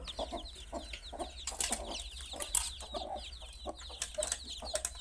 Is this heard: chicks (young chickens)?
yes